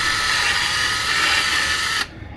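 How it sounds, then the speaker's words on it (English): Small power drill reaming a hole in a Hubsan 501s drone part: a steady, high-pitched whirring buzz held for about two seconds, close and loud, then abruptly stopping, with no talk. "And ream it out a little bit."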